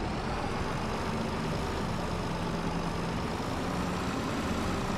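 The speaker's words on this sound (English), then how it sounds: "take the tractor back" Tractor engine in a farming video game, a steady broadband engine drone running continuously at a constant level with no talking.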